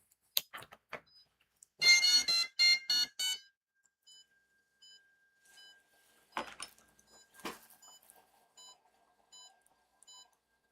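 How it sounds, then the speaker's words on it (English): An RC transmitter gives short, evenly spaced high electronic beeps after its bind button is pressed. A quieter repeating tone pattern runs through, with scattered handling clicks and a louder burst of rapid tones near the start. "I hit the bind button on this guy. Hopefully it beeps at me."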